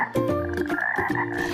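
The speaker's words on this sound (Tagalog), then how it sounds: "conservationist na si Jens Del Rosario na may alagang African bullfrog" An African bullfrog croaks loudly and close by, giving a couple of deep, drawn-out, throaty calls that run nearly back to back.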